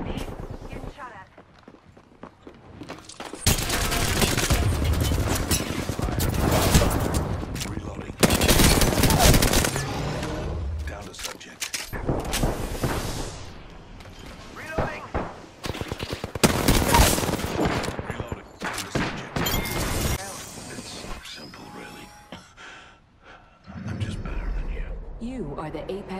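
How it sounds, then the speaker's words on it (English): Video-game gunfire in Apex Legends crackles in repeated loud automatic bursts and scattered shots, with a player talking excitedly between and over the volleys. "They're shooting at me! Getting shot at."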